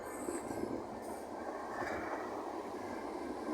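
An electric train passes in fog, a steady broadband rumble of wheels on rail that holds at moderate level throughout, with no voices.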